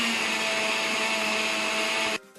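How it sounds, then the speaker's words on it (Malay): Blender running on high speed, mixing ingredients until thick and creamy, gives a loud, steady motor whir close up that cuts off abruptly near the end. "That blender all the ingredients on high speed until thick and creamy"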